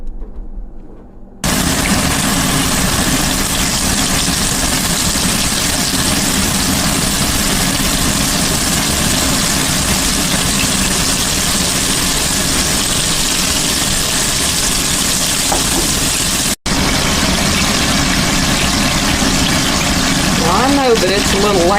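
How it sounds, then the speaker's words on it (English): A loud, steady mechanical whir and rumble from a kitchen exhaust fan going full blast runs nearly the whole time, briefly cutting out near the end. "it's a little loud trying to talk over this exhaust fan"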